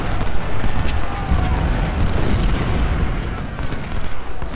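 Cannon artillery fire in the Civil War strategy game Ultimate General: Civil War, heard as loud, dense, rumbling booms that run together without a break.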